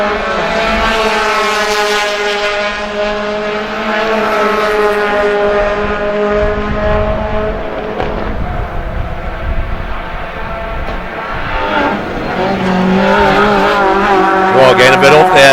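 Race cars lapping a circuit in the VW Pozidrive Challenge, their engines droning and shifting pitch loudly and continuously beneath a commentator's talk, with the cars passing closely.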